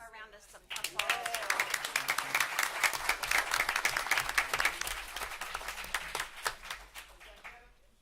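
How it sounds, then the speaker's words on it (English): Audience applause at a City of Florence, South Carolina event, a sustained burst of clapping from a crowd that swells quickly and rolls on for several seconds before tapering off. "let's give them a round of applause"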